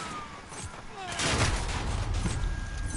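Bursts of gunfire ring out in a video game, a quieter rattle at first, then a louder, denser volley with booming low rumble that keeps going to the end.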